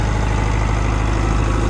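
Perkins 4.108 diesel generator set idling just after a cold start, a steady, close, low rumbling throb with even mechanical chatter running unbroken throughout.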